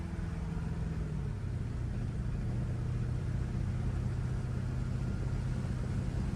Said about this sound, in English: Truck rides down the road nice, it drives nice.